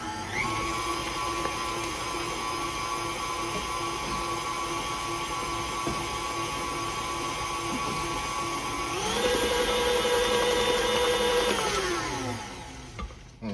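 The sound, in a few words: mixing pound cake batter with lemon flavoring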